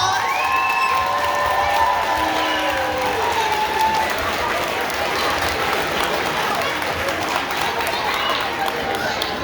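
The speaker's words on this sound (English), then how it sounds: "let's give them one more big round of applause" A crowd applauds and cheers for student scholars after their musical performance at an evening event, with whoops and shouts rising over steady clapping throughout, loud and close.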